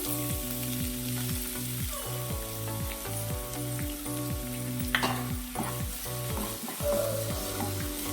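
Onion sautéing with ginger and garlic in a pan, a steady close sizzle with spatula stirs and scrapes throughout, under a faint background hum.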